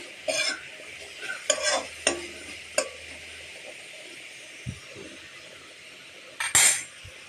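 Chopped beetroot and carrot get stirred in a pan, a spoon scraping and clinking in short bursts against a faint sizzle, with a louder scrape near the end.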